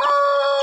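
A single Shamo chick gives a short, loud, high tonal peep up close, one sustained call lasting under a second.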